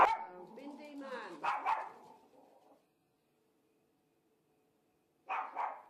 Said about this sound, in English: I think she's barking at a leaf that's flowing